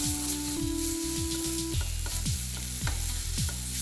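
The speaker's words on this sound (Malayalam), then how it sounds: "ഇനി നമുക്കിത് നന്നായിട്ടൊന്ന് വഴറ്റിയെടുക്കാം" Green chilli and ginger-garlic paste sautéing in a pan, with a steady close sizzle and repeated scraping stirs in a regular rhythm, along with some tonal background music.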